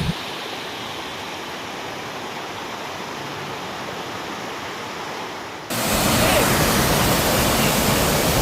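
Flowing water at Vadattupara, a steady broadband rush like a stream or small waterfall heard up close, growing noticeably louder and brighter toward the end with no voices.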